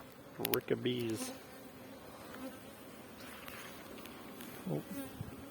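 Honeybees drone around a hive at an apiary, a steady low buzz throughout, while a person speaks briefly near the start and again near the end.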